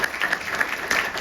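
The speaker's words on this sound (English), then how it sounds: "Yeah, we can clap it up for that" A brief burst of audience applause breaks out during an interview, scattered claps heard close and fairly loud for about a second.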